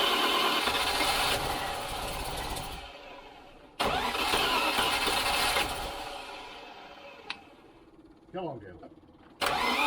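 A Lincoln Green Range Rover engine cranks and catches on its first start, coughing into a rough run that fades, then fires again; a voice urges it on and short chirps follow.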